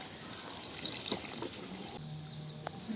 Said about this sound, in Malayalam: ആവശ്യത്തിന് വെള്ളം ഒഴിക്കുന്നുണ്ട്